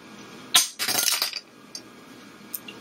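A cheap knock-off Transformer toy clatters and clinks against a glass desk in a sharp knock followed by a rattling burst, then a few faint, scattered taps.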